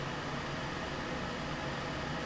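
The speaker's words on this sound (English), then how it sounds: "as you can hear the fan in the background" A steady, even whoosh of moving air hums continuously without change, like a fan running nearby with no other sounds on top.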